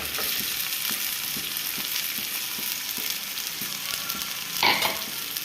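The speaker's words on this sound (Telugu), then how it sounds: "ఒకసారి కలుపుకొని కట్ చేసి పెట్టుకున్న బెండకాయలు కూడా వేసేసుకుందాం" Cut okra (bendakaya) frying in a pan with onions and turmeric, a steady close sizzle with scraping stirs at regular intervals and one louder stir near the end, no voices.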